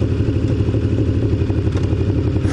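A Kawasaki ZN1100 motorcycle engine runs with a misfire on the left side, giving a steady, loud, uneven thudding idle with clattery pulses close up.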